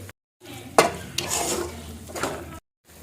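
A spoon stirs chili, coriander and turmeric powders into a sizzling masala for cashew-paste chicken dum biryani, making a few close scraping strokes against the pot over a soft fry, with short silent gaps.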